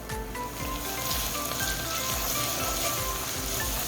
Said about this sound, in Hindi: बस 1-2 मिनट मसाले में भूनेंगे ताकि ये कीमे में सारे मसाले रच जाएं